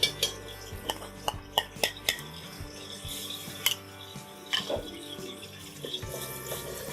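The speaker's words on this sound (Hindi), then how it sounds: "ऑयल गरम हो गया, मैंने ले लिया है 1 कप। इसमें डाल दूंगी मैं ये प्याज" Onions go into a cup of hot oil in a pot for bhuna gosht, with clattering spoon and metal clinks, light sizzling and bursts of stirring scrapes, no voices.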